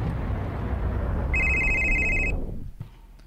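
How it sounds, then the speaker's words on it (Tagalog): A cellphone rings with a bright electronic trill lasting about a second over a loud rumbling background like a moving vehicle, which then drops away into near quiet. "Imo cellphone, Chris."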